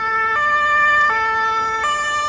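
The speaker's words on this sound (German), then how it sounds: "Und jetzt kommt, glaube ich, tatsächlich auch die Polizei" A loud two-tone police siren wails near a football stadium after a Bundesliga match between Eintracht Frankfurt and Hoffenheim, alternating pitch steadily in a clear, close hee-haw pattern with no voices.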